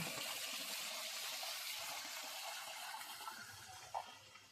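A man-made waterfall at a Kerala resort sends a soft, steady wash of splashing water, fairly quiet and constant, with a brief louder splash near the end.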